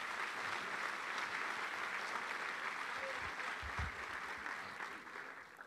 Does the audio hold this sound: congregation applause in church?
yes